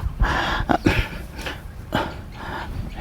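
A dog growls close by in short, rough bursts, with a few sharper snarls mixed in.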